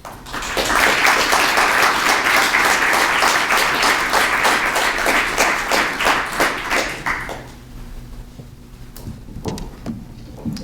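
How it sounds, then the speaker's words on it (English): An audience at a lecture on religion in Joseon Korea breaks into dense, steady applause that lasts about seven seconds, then fades to quiet room noise with a few stray sounds. "Please welcome Dr. Boudewijn Walraven with a warm round of applause"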